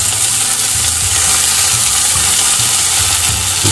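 Enoki mushroom meat rolls frying in a pan, a loud, dense, continuous sizzle with low rumbling underneath, steady throughout and with no talking.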